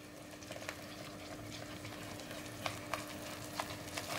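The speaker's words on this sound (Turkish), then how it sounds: "Bir su bardağı un ekliyorum. Hemen karıştırıyoruz." A cup of flour is stirred into melted butter, sugar and cinnamon over medium heat for churros dough, a soft bubbling sizzle with faint scraping and a few light taps of the spoon, quiet and close, without speech.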